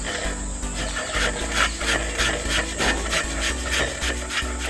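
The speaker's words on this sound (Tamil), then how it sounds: "இது போல் நம்ம வேக வச்ச உருளைக்கிழங்கு துருவிக்கணும்." Boiled potato is rubbed against a metal vegetable grater in a steady, close rasping rhythm of repeated scraping strokes, with no talking.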